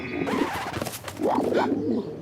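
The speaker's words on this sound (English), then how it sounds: "Giant pigeons are attacking." Cartoon giant pigeons give two loud, close cooing calls separated by a brief pause, with no talking over them.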